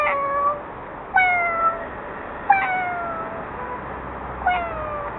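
A cat meows four times, each call drawn out and falling in pitch, evenly spaced and fairly close in otherwise quiet surroundings.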